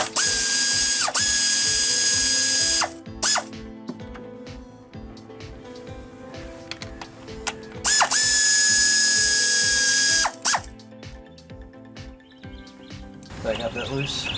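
A ratchet on an extension working small bolts on a 2000 Bonneville radiator gives rapid, close clicking bursts. Between them come pauses and a high mechanical whine, with speech over parts of it.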